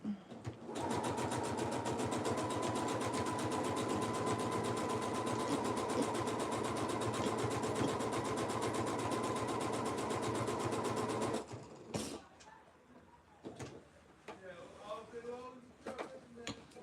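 A sewing machine stitches a dress with a rapid, even mechanical whir that runs steadily for about eleven seconds and then stops, followed by fabric rustling and a few small clicks.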